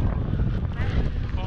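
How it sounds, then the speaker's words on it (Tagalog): Strong wind blows across the summit of Taal Volcano after its eruption, a steady, close, low roar buffeting the microphone, with a voice partly heard beneath it. "Lakas ang hangin dito."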